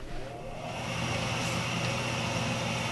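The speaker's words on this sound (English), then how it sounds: "The first thing that engages, you can actually hear the exhaust." Boiler exhaust starting up during an inspection, a steady broadband rushing roar that swells slightly in the first half second and then holds at an even level.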